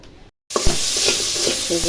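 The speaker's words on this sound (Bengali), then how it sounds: "টাকি মাছটা পেঁয়াজে তেল একটু ভাজে ভাজে নিতেছি যাতে গন্ধটা চলে যায়" Taki fish fries with onion in hot oil in a home kitchen, a sudden loud sizzle breaking in after a moment of silence, with scraping stirring strokes over the steady hiss.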